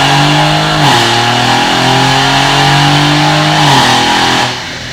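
An LS7 V8 car engine fitted with upgraded heads and cam revs loud and close under heavy load, its steady roar dropping sharply in pitch at two gear shifts before easing off at the end.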